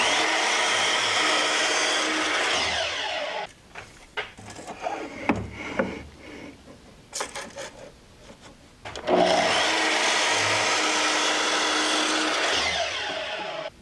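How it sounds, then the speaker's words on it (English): A chop saw slices through salvaged cherry wood blanks, its loud steady whine running a few seconds, then handling knocks and rubbing of wood, before a second long cut roars up close. "Let's go cut them down on the chop saw."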